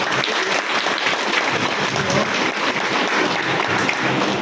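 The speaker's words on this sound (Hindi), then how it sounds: "जोरदार तालियां।" Loud, sustained applause from a crowd at a Pran Yoga camp gathering in Barsana, dense steady clapping filling the whole stretch with no talk over it.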